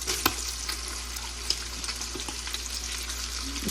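Onions sizzle and crackle steadily in leftover bacon grease at the stove, a close, continuous fry broken by a few sharp pops and faint utensil clicks, with nobody speaking.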